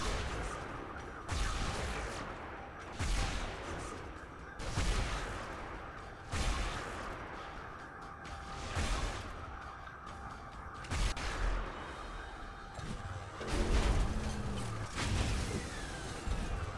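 Rocket fire in the Transformers Universe video game: a transformer in vehicle mode launches a steady string of heavy booming blasts, about one every couple of seconds, over continuous loud battle noise.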